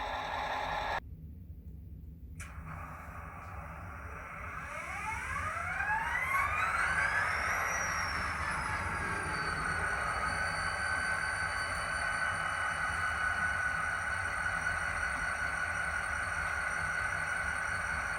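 A Scaletrains model locomotive's startup sounds wind up, a rising whine that climbs over several seconds and then settles into a steady electronic hum, heard alone and at moderate level.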